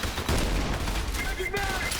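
Rapid gunfire from the shooter game Trepang2, with dense bursts of shots rattling continuously and loudly over a low rumble, while a voice talks underneath.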